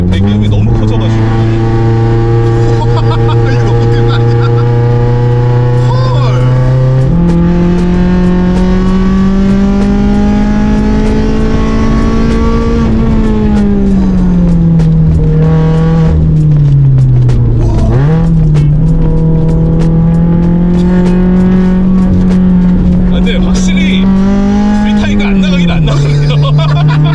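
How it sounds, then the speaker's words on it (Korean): A tuned Mazda MX-5 Miata with high-lift cams drones loudly through its exhaust for a long stretch, rising in steps and dipping as the engine revs, with a deep rumble throughout. "근데 배기음이 너무 커져가지고"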